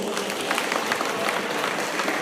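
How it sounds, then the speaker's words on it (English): Audience applause at the opening of a karate championship in Singapore, a steady wash of clapping from a crowd of spectators filling the whole stretch, fairly even in level. "please give a round of applause"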